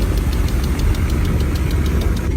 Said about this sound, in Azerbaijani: Eşitdiyiniz səs klapandan gəlir və adətən yağlanmanın zəifləməsi